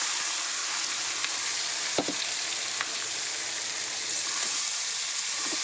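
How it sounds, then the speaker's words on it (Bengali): Marinated chicken pieces sizzle steadily in hot oil, a dense, even frying hiss with a few faint pops and clinks of stirring, close and continuous with no talking. "তো চলো এই ম্যারিনেট করা চিকেনটা এবার তেলের মধ্যে দিয়ে দেব।"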